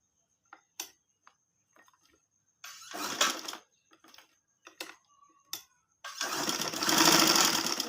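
A sewing machine stitching cord piping onto fabric: short stop-start bursts of rapid mechanical clatter, a few brief runs, then a longer, louder continuous whir of stitching near the end, close and clear with no talk.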